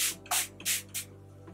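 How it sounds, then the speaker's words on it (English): Spray bottle misting water onto hair roots: four quick hissing bursts, close and fairly loud, followed by a faint fifth puff. "So I'm just gonna spray water on the roots of the hair."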